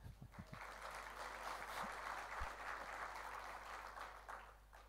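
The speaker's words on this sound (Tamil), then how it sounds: "சிலர் தான் கைத்தட்டுறீங்க." Scattered clapping from a church congregation at a prayer gathering, a broad, moderately quiet wash of hands that holds steady for several seconds, with a few low knocks near the start.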